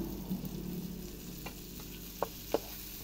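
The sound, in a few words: chorizo bilbao added to frying onions in a pan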